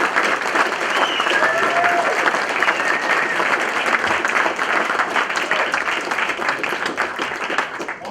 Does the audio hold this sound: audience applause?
yes